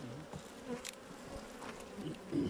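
Steady buzzing from many honeybees in an open hive at close range, a dense continuous drone with small swells in loudness and no voices.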